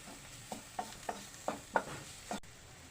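Fish curry made with a little kudampuli reducing in a pan, heard as a soft steady bubbling with about half a dozen light spoon or ladle scrapes spaced through it, fairly quiet and close, with no talking.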